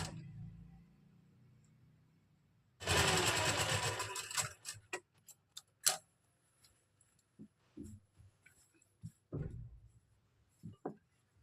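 A sewing machine runs in a steady burst for about two seconds while joining the shoulders of kurti fabric and lining, followed by scattered clicks and handling taps, close and quiet.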